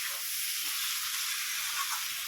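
Spices, tomato and drumstick pieces frying in a pan for a fish curry, a steady close hiss and sizzle without pause and no talk.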